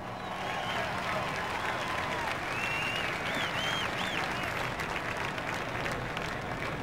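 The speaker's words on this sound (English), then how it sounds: "Listen to the crowd." NASCAR truck race fans at Talladega roar and applaud after a driver climbs out of a flipped truck, a broad, steady crowd noise with whistles and shouts rising through it, heard from a distance with commentary over it.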